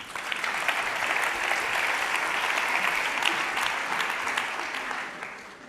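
Sustained audience applause at a startup contest and social media awards event, a steady dense wash of clapping from a crowd filling the room, holding evenly loud throughout before tapering slightly at the end.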